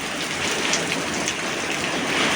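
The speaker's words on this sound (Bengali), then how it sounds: "কত জোরে জোরে বৃষ্টি পড়ছে।" Dense, loud rainfall pouring steadily, a constant hiss of heavy drops hitting surfaces nearby.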